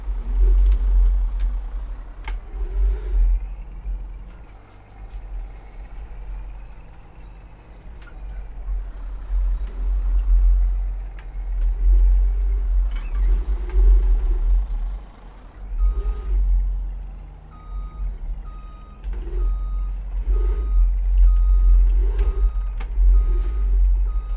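A truck in Farming Simulator 22 reverses a very long trailer back to a soup factory, its engine droning steadily with repeated reversing beeps at regular intervals. No one speaks.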